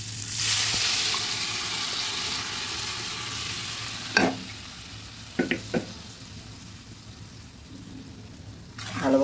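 Boiled chana dal is added to fried spices in a pan. A steady sizzle fades as the dal goes in, and a few sharp clinks of stirring follow.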